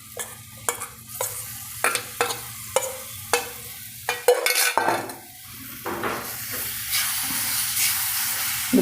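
Spoon stirring ground amla, chillies and ginger in a pan for pickle, with rhythmic scraping clinks against the metal over a sizzling, frying background hiss.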